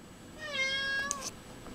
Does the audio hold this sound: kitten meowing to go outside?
yes